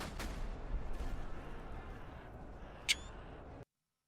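A gunfire volley in the Master of Command video game: one sharp, loud crack stands out late in the clip above a steady battlefield rumble, and the sound then cuts off abruptly.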